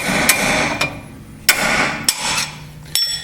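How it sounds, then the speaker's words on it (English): A hammer strikes a ball joint pin on a Crown Victoria or Grand Marquis steering knuckle, five sharp metallic taps spaced irregularly over a faint background, close and loud. "We're going to tap this pin out here."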